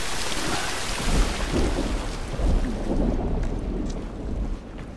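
Heavy rain with rolling thunder in The Last of Us: a dense, loud wash of rainfall with deep rumbles swelling and fading throughout, no voices.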